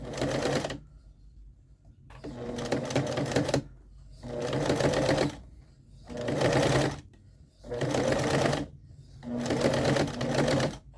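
A sewing machine stitches around a curved outline on a small felt-like craft piece, in five bursts of fast, buzzing stitching, each a second or so long, separated by short quiet pauses while the work is turned.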